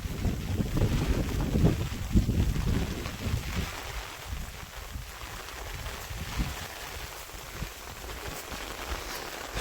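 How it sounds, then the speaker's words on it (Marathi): Strong wind buffets the microphone on the upper part of Rajmachi fort during light rain: a loud, steady roar with heavier rumbling gusts early on, and no talk. "इथं वारा खूप जोरात लागतो आहे"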